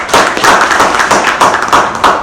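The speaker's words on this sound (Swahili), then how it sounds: "Tuwapige makofi mengi hapo." Applause from a crowd at a regional athletics send-off event, a dense burst of clapping lasting a couple of seconds, loud and close, with no voices over it.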